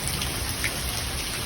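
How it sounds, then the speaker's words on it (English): Hard rain pouring during a thunderstorm in Tennessee, a dense, steady hiss of drops close by with no break, loud and alone without voices. "It's raining"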